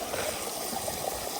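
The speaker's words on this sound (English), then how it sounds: "See, water washes that" Water washes sand through a small gold sluice box, making a steady, close rushing and trickling wash that runs unbroken throughout.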